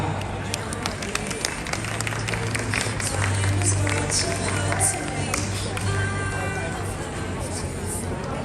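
Steady applause from a wedding crowd fills the whole stretch, a dense continuous patter of many hands with a low hum underneath.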